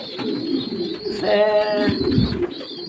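Pigeons coo nearby in a short, clear throaty burst, with other soft bird calls and light background noise around them.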